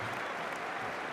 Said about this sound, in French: Et même les Australiens, fair play, applaudissent ce moment de recueillement.